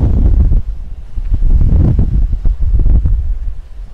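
Wind on a beach in Sarandë, Albania buffets the microphone in heavy low gusts, rising and falling unevenly over a few seconds with no voices.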